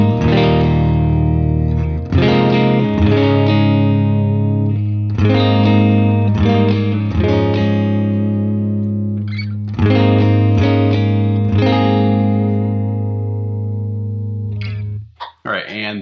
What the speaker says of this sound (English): let's hear the two pickups together.